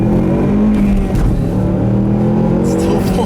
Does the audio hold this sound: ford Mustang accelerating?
yes